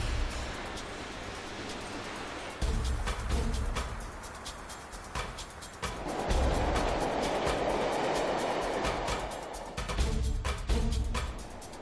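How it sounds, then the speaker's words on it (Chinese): A high-speed train on a test stretch of a North China line gives a steady broadband roar and rushing hiss that swells around the middle and late portions, with no talk. "今天2辆高铁列车将在这里进行一项重要的测试"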